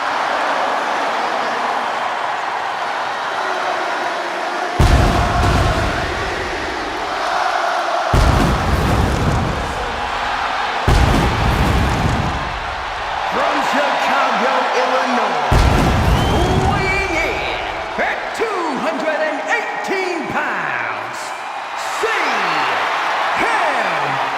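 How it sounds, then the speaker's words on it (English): A big video game arena crowd in WWE 2K26 roars and cheers in a sustained ovation for CM Punk, with loud swells and bursts of noise rising over a constant hubbub. "The loudest, most passionate ovation you may hear all year."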